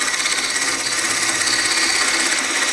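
Wood lathe turning while a tool squares off the end of a workpiece before a tenon is formed, a continuous bright scraping hiss at steady loudness, close up, with no talking.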